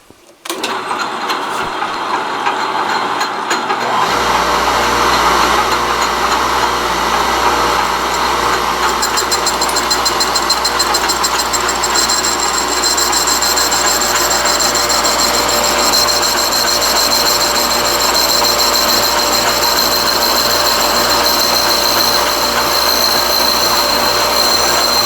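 A metal lathe takes a finishing pass on a workpiece, starting up after a few quiet seconds and then running with a loud, steady machine whir and high tonal whine throughout.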